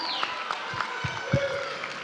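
A high school graduation crowd clapping and cheering with scattered voices mixed in, a dense, busy patter of hands throughout.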